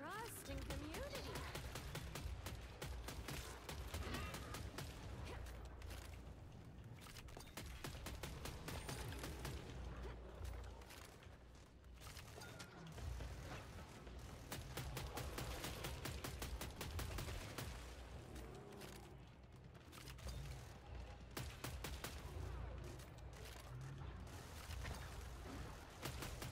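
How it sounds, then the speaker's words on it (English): An automated turret in a video game fires rapid, sustained bursts of gunfire across a long stretch, a dense rattling fusillade that pauses briefly and resumes, with a voice talking over it at low level. "Turret's activated. Got the turret going."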